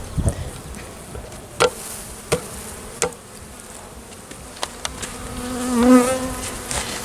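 Bees buzz around an outdoor hive colony in a low, steady hum, broken by a few sharp knocks and taps and a louder buzz passing close near the end.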